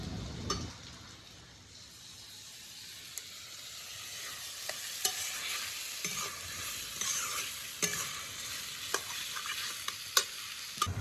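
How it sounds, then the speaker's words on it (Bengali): Snails sizzle and fry in a pan with ginger-garlic paste while a utensil scrapes and stirs them, giving a steady close hiss broken by sharp clacks and scrapes throughout. "ভাজা ভাজা হয়ে গেছে, এবার আমরা আদা রসুন পেস্ট করা যেটা আছে ওটা দিয়ে দেবো।"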